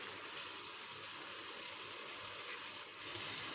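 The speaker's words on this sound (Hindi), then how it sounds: "इसे हाई फ्लेम पे हम इसे ज़रा अच्छी तरह से फ्राई करेंगे।" Chicken sizzles in its own released juices in a pan over a high flame, a steady close hiss of frying with no breaks and no talking.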